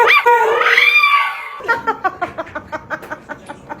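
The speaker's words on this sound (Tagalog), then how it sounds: "Tumatahol." After a rising whine, a dog barks in quick yips, a dozen sharp barks in a fast, even rhythm close by.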